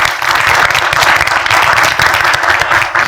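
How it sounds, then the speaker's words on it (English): Audience applause at an interactive session on filmmaking and Bollywood, a steady dense wash of many hands clapping throughout, loud and close, with no talk. "Let's clap for that."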